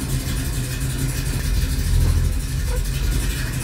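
A 1967 Ford Mustang engine runs close by with a steady mid-low rumble that swells slightly partway through, then settles.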